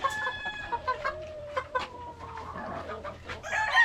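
Young four-month-old stag roosters crow and cluck together, several drawn-out crows overlapping with short clucks, fairly close and moderately loud against a quiet yard background.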